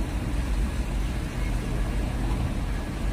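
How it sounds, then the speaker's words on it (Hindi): A car engine rumbles low and close for a few seconds, steady with slight surges, as the vehicle shifts. "हाँ गाड़ी हटा रहा है"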